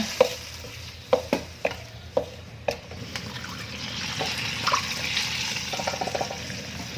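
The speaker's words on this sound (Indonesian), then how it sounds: "Dan sekarang ini saya masukkan kaldu ayamnya." Chicken broth poured into a pot of opor ayam simmering with bay leaves and stirred, with several sharp clinks of a utensil against the pot followed by a steady liquid pouring and bubbling wash.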